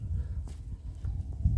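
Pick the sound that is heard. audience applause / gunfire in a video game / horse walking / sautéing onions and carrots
horse walking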